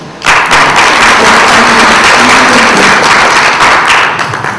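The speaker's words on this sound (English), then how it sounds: "I think they deserve a round of applause" Loud, dense applause bursts from a conference audience for panelists at a food industry event, starting abruptly and holding steady as a close wash of clapping before easing off slightly at the end.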